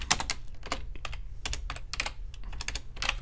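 Fingers type on a computer keyboard at a desk, a close, steady patter of uneven key clicks with a few louder strikes, running throughout with no voice.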